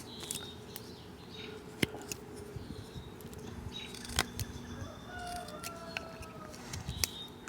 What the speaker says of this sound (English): Good morning, Mr. Rooster.